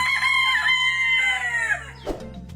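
A pet chicken gives a long, loud, drawn-out crowing call close by, trailing off, followed by a brief clucking sound.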